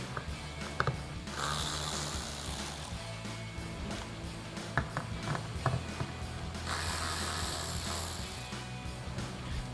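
A hand ratchet clicks steadily as it backs out screws from the third brake light on a 2015-2023 Ford F150, with rapid repetitive ratcheting in bursts and a low hum underneath, no voices.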